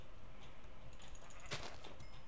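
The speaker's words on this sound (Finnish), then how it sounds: "Täällä on valkoinen lammas" A white sheep in Minecraft gives a few short bleats over a steady background of game ambience, with no speech.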